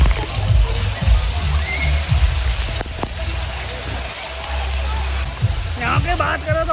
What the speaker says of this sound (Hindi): देख रहे हो मेरे पीछे ये है भाई झरना